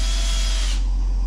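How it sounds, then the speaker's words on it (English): A regular power drill bores a hole for an eyelet in a homemade fishing sinker, whining loudly and steadily for under a second before spinning down abruptly, with no talking. "Regular drill."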